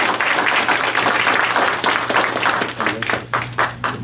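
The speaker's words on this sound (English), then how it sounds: "one more round of applause for you" A crowd at a Black History program gives a round of applause for singers, dense and loud at first, then thinning into scattered claps near the end.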